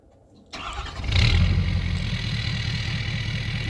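A 2017 Ford F250 diesel truck with its DPF and cat deleted cranks after a brief quiet moment and fires up, settling into a loud, deep, steady rumbling idle close by.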